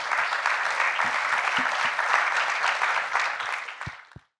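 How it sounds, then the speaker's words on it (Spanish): An audience gives Carlos a strong round of applause at an agribusiness event in Peru, steady clapping that holds for a few seconds and then fades out, ending with a few last claps. "Un fuerte aplauso, por favor, para Carlos."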